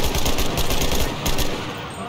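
Rapid automatic gunfire in the WWII shooter Enlisted, Pacific War battle at the Tenaru River, a loud, dense burst of close machine-gun shots that tapers slightly toward the end.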